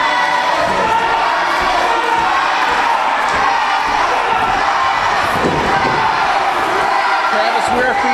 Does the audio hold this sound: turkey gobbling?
no